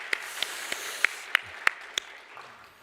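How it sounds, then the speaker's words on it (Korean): A handful of separate sharp claps ring out at a steady pace, about seven in all, fairly faint and distant, with no voices, from a congregation at a Christmas Eve church service. "다시 한번 찬양의 박수를 올려드리겠습니다."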